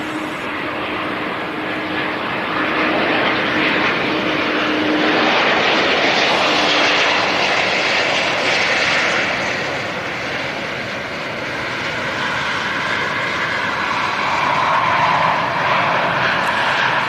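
An inbound airplane landing at London City Airport gives a loud, continuous jet roar that swells and eases in waves over about seventeen seconds, close and steady, with no voices.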